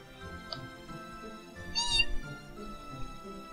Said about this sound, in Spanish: ¡Es un gatito!